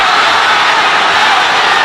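Dense, loud roar of a large boxing arena crowd at a Manny Pacquiao versus Oscar Larios fight, a steady wash of cheering and shouting filling the whole moment.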